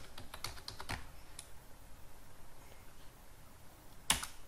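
Quick bursts of keystrokes on a computer keyboard while coding, a fast cluster of clicks, a pause, then one sharper tap, quiet and close.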